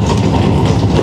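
A tram rolls past on a city street in the Netherlands, a loud, steady low rumble with rail clatter filling the whole moment, close by.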